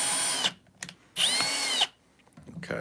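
A power drill bores in two bursts, a short run then a longer one, its high whine loud and close with a pitch that dips under load before cutting off, with quiet handling sounds between.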